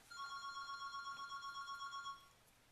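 A telephone rings inside a comic book and game shop: a steady electronic trilling tone in pulsed bursts that goes on for about two seconds, then stops, with no one speaking over it.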